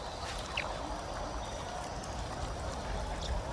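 Steady wash of falling water from a waterfall in the Prehistoric Kingdom game, a continuous broadband rush at a constant level with a few faint bird-like chirps over it.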